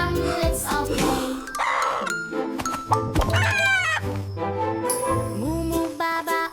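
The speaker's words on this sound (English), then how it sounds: "Cluck cluck chickens sing along." Chicken clucks and rooster-like calls mix into a busy children's farm song, with layered music, chimes and other bright tones running throughout.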